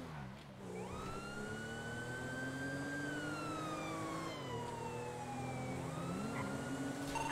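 A police car siren in the GTA 5 video game wails continuously in long rising and falling sweeps, steady and fairly close, with no talking over it.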